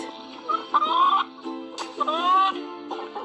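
Chickens clucking and squawking close by in two short bursts, with a brief pause between them.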